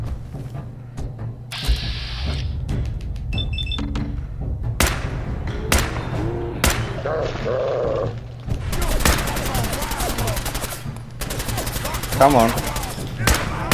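Rapid gunfire in Fallout 4, with bursts of automatic shots, single cracks and thuds over steady background game noise, loud and close. Someone briefly speaks over it.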